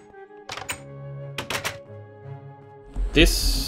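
A Railcraft rolling machine in Minecraft pressing iron plates, heard as a few thunking mechanical clunks and a rising whirr, with game sounds and a voice talking over it.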